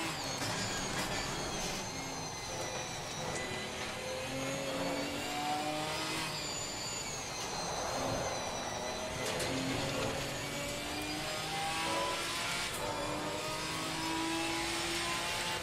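Several GT4 race cars roar past in an online Assetto Corsa Competizione race, engines revving and shifting in overlapping loud passes with no talk.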